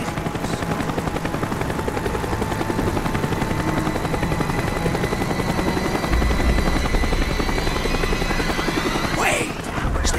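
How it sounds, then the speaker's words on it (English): A helicopter circles in Call of Duty Black Ops gameplay, its continuous rotor thump and engine roar loud and steady throughout, with a brief sharp burst near the end. "The chopper is coming around again."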